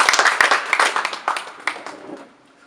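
Audience applause fills a room, a dense patter of hand claps that starts strong and gradually thins and fades over a few seconds, with no voices over it.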